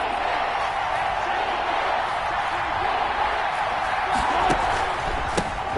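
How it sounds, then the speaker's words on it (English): A stadium crowd in Madden 21 roars steadily on a big third down in a simulated NFL game, a loud continuous wash of cheering with a few sharper accents near the end. "the crowd getting into it as we come up on a big 3rd down"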